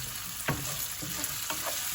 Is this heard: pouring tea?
no